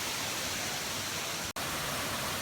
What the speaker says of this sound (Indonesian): Nah ini dia di depan aku udah air terjun pusatnya yang besar. Jadi yang dari atas gitu ngalir ke bawah sini.